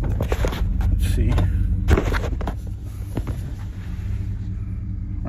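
A Dodge Durango with a newly replaced wheel bearing rolls along, giving a low continuous road rumble and cabin drone, with a few knocks and thumps on top.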